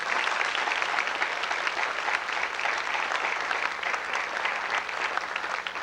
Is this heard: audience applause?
yes